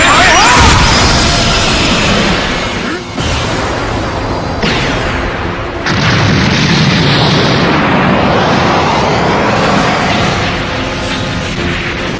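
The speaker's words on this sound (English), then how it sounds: "What an explosion!" A huge anime energy blast from Dragon Ball Super erupts in loud, roaring bursts, with crashing booms and a sustained rumbling wash that surges again midway, close and overwhelming.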